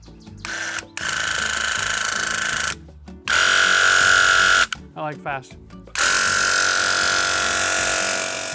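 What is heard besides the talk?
paint sprayer spraying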